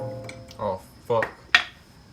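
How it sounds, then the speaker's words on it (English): A wrench strikes a car brake rotor during a coilover install, giving three sharp metallic clanks with ringing tails, close by and spaced about half a second apart. "I just hit the rotor, I think."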